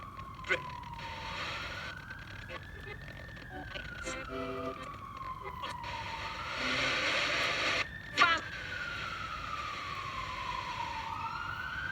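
A siren wails up and down as an emergency vehicle passes nearby, with faint background noise and traffic.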